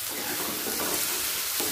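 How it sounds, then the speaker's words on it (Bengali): Chopped tomato and onion sizzle steadily in a hot pan for an egg tarka, a close, continuous frying hiss with faint stirring scrapes and no voices. "30 সেকেন্ড টমেটোটা পেঁয়াজের সাথে ভাজা হয়ে গেছে।"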